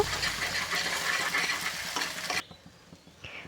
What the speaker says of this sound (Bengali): ডিমটা খুব ভালো করে নেড়ে চেড়ে